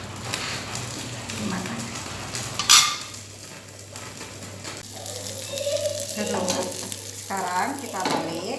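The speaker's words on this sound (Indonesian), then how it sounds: "Kita panaskan wajan yang diisi dengan minyak," A tofu and egg mixture fries in hot oil in a wok, sizzling steadily and close, with a sharp burst early on, some stirring and utensil clinks, and a person talking over it.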